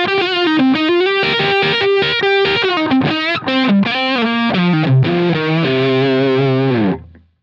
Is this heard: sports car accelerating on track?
no